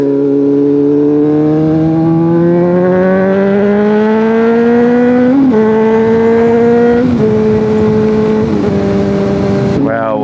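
Honda CBR600RR sport motorcycle with a cheap aftermarket exhaust, no catalytic converter and no servo, screaming loud and close as it revs high, then drops pitch in stepped downshifts with crackling blips, running continuously from start to finish.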